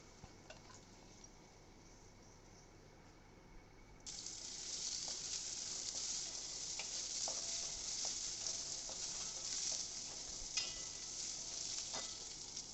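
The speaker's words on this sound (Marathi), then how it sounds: "कढई गरम व्हायला ठेवली आहे कढईमध्ये तूप घालायचं आहे दोन तीन चमचे" Ghee sizzles in a hot kadai: a faint hiss at first, then from about four seconds a loud, steady frying crackle with occasional pops, heard alone.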